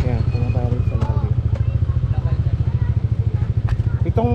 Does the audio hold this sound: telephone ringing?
no